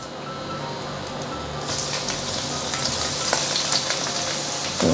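Young ginger is sautéed in a pan for a prawn noodle broth. A loud hiss bursts in partway through and then holds as a dense, close sizzle with scattered crackles.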